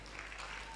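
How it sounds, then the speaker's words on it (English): Applause at a university nurses' induction ceremony, a brief soft patter of clapping. "a round of applause for him"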